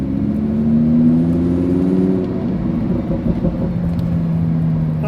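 A Lamborghini Huracán engine drones loudly and close while driving, its deep tone rising and then easing off as the revs change.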